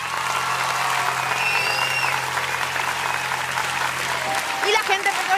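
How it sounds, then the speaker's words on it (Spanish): A studio audience at a Spanish-language talent show applauds a blind singer, a steady crowd clapping held at moderate level under a low hum, with a few brighter tonal sounds and a stir near the end. "Quiero que sientas el aplauso del público."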